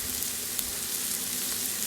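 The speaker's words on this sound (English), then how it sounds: "I'm gonna let this sizzle there while the garlic is cooking" Beef chuck steak sizzles in a pan while garlic cooks alongside, a steady, faint, even frying hiss with no talking.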